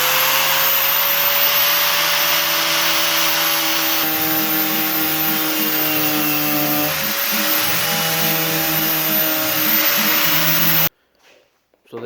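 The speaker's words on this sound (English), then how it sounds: "So this is what I'm finding as I'm using the wire wheel." A wire wheel grinds steadily against the body of a 1978 Monte Carlo hardtop, a loud continuous whirring hiss with shifting tone as pressure changes, running about eleven seconds before cutting off abruptly.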